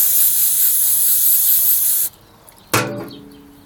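An aerosol can sprays a lawn mower part during a tune-up: a loud, bright continuous hiss for about two seconds, then a cut to quiet, followed by one short sharp spurt that tails off.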